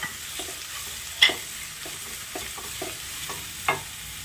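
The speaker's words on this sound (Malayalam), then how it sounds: "ഒരു മൂന്ന് പച്ചമുളക് ചെറുതായിട്ട് അരിഞ്ഞതും കൂടി ഇട്ട് കൊടുത്തിട്ടുണ്ട് നമുക്കിതൊന്ന് വഴറ്റിയെടുക്കാം" Finely chopped green chillies and onion sauté in a pan for a Kerala-style chicken curry: a soft, steady sizzle nearby, broken by light spoon taps and scrapes every half second or so.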